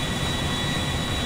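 Steady, loud aircraft engine drone from a plane or helicopter in GTA Online, a constant broadband roar with a thin high whine running through it and no talk over it.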